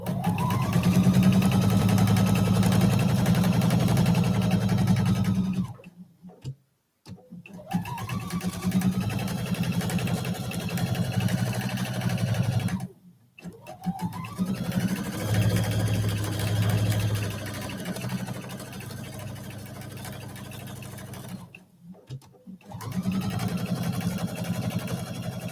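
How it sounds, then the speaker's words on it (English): A sewing machine stitching quilt block fabric, its motor running in long steady bursts with short pauses between seams, a close continuous hum throughout. "I'm just going to sew with my needle in the down position"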